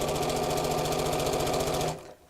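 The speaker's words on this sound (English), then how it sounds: "make sure you're not sewing through that cord" A sewing machine stitches a tote bag made from fat quarters, running fast and steady at close range for about two seconds before it stops.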